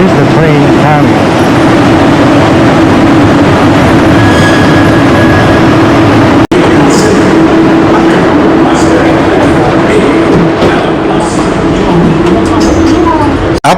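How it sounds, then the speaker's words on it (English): A train pulls in toward KL Sentral, a loud continuous rumble and wheel noise on the rails with a faint steady tone, close and filling the scene with station bustle beneath it. "So, here's the train coming."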